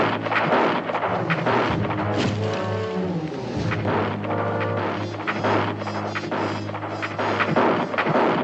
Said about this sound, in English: That's shooting awful good for Indians.